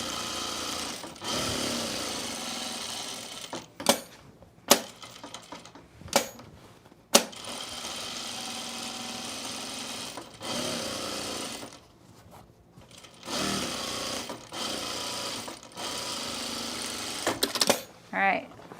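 A sewing machine stitches down the hem of a bias-cut dress in bursts of fast mechanical running broken by brief pauses, close up, with a voice talking over it.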